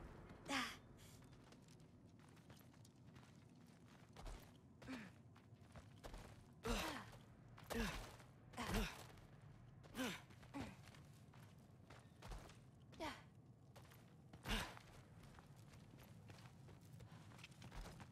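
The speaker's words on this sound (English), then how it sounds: "I think I can hear something breathing near the back of the tent." Something breathing near the back of a tent: faint, slow, heavy breaths or sighs recurring at uneven intervals over a quiet background, some at a distance.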